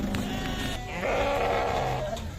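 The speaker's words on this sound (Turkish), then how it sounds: "Bir koyun, dört adet kuzu." A ewe and four lambs bleat loudly and close by at a livestock market in Torbalı, İzmir, overlapping calls over a busy background of farmyard noise.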